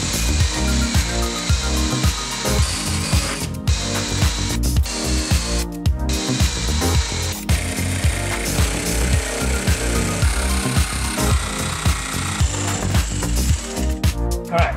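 A jigsaw cutting through wood for a cosplay droid build, a loud continuous buzzing saw with rapid rhythmic chatter that stalls and restarts briefly a few times, close to the microphone.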